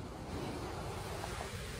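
Waterfall in Colchester, a steady, dense roar of rushing, crashing water heard close by with no breaks and no talking.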